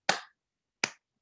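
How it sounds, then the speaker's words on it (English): Two sharp, isolated claps about three-quarters of a second apart, close and fairly faint, with silence around them, from a small group of podcast hosts attempting one clap together. "Everybody one clap."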